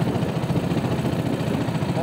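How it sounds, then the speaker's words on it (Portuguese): A small fishing boat's motor runs at a steady, close, rumbling idle, filling the whole stretch without a break. "motor. É bom testar."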